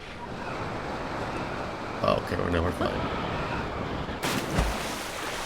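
Water splashes and washes steadily in Zelda: Tears of the Kingdom as the character drops into the water and swims, a continuous noisy churn beneath someone talking.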